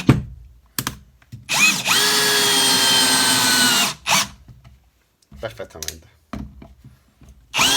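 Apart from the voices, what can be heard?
drill driver running with supplied socket bits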